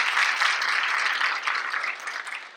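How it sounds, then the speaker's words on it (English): An audience at a school district state-of-the-district event bursts into sustained, dense applause that fills the room and slowly tapers off. "So give yourselves a round of applause for that."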